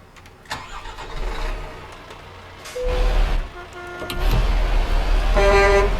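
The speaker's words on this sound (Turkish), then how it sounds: "havalı kornası gayet güzel" A deep truck air horn on a Scania P truck in Euro Truck Simulator 2 blares in sustained tonal blasts over a rumbling engine, growing louder toward the end with no one talking.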